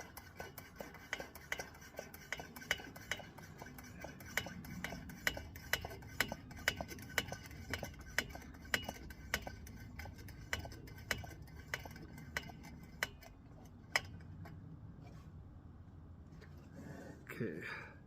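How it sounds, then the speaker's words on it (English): A Coleman 502A camp stove is pumped by hand, a long run of regular ticking, clicking strokes close by, with a faint hiss and a louder clatter at the end. "So let's get this stove pumped up and get ourselves a cup of coffee going."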